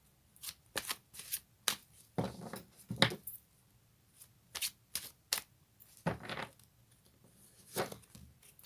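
Oracle cards being shuffled by hand, a series of crisp papery riffles and flutters in short irregular bursts, close and fairly quiet, with no voices.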